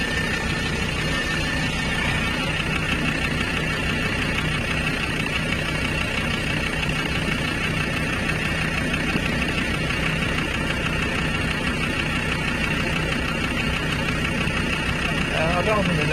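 Land Rover Discovery 2 engine idling at a steady drone, continuous and fairly loud throughout with a constant low hum and no change in pitch.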